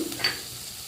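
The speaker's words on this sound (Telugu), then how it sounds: "పచ్చివాసన పోయేదాకా వేగిన తర్వాత ఆనియన్స్ బాగా వేగాయి ఇప్పుడు" Onions sizzling in a hot pan for Andhra-style fish curry, a soft steady frying hiss with a brief stir near the start, close and fairly quiet.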